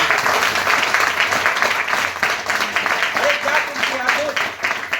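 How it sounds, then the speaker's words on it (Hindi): Audience applause for a speaker at an Ayurveda business motivational event, loud, continuous clapping filling the room with a busy crowd texture and some voices faintly beneath. "एक बार जोरदार तालियां से"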